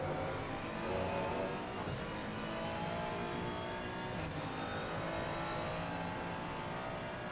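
GT3 race cars, an Aston Martin and a Mustang among them, racing at Imola in a video game: a steady, dense engine roar with overlapping revs and faint tire squeal, loud and continuous throughout.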